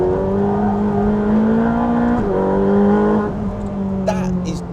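Ferrari 458 Speciale cornering on a race track in third gear at around 85 to 90 mph, its engine holding a loud, steady high-pitched note that dips with a quick shift and rises again, heard from inside the car.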